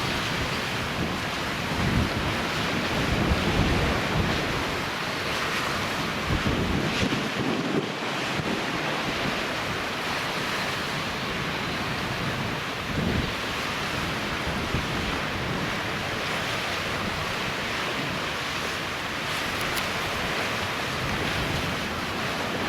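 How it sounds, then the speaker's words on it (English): High-tide sea waves break against a harbour wall at Watchet, a continuous heavy roar of surf mixed with strong wind buffeting the microphone, surging and crashing nearby throughout. "certainly hear the sound of the waves just over the wall to my left"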